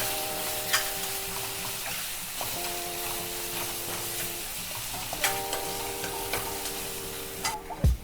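Masala with goda masala and salt frying in a pan while being stirred, a low steady sizzle with occasional spoon scrapes and clicks, and a tonal hum in the background.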